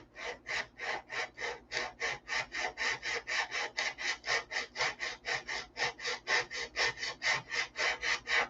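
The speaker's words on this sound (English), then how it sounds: "I got a piece of sandpaper here." A piece of sandpaper is rubbed by hand, used to polish a shoe, in a fast, even back-and-forth rhythm of about thirty rasping strokes, close and fairly loud, with no talking.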